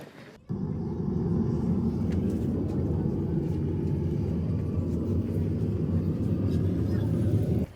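Inside an airliner cabin during a Hajj flight, a steady low engine drone starts abruptly and then holds constant and loud, filling the background.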